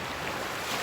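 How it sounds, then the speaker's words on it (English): Steady breeze blowing across a beach microphone under overcast skies, a broad continuous rush with faint surf mixed in, even and close throughout with no voices. "Oh, there's a breeze."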